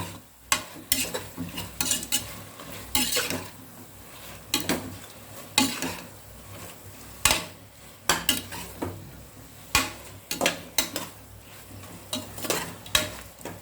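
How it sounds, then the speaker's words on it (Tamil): Chicken sautés in a pan with onion and tomato for biryani, a spatula scraping and stirring in repeated sharp strokes over a steady low sizzle, close and clear with no voices. "வெங்காயம் தக்காளி நல்லா வதங்கிருச்சு சிக்கனை போட்டு நல்லா இது பண்ணிக்கலாம் நல்லா வதக்கிக்கணும்"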